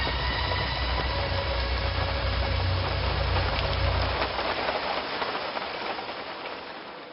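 Steady rain pouring down, a dense continuous hiss with a low rumble underneath that eases toward the end, no voices.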